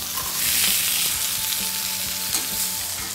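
Steak and butter frying in a cast iron pan give off a steady, close sizzle with a bright crackling hiss throughout and a few stir or scrape sounds, and no one speaks.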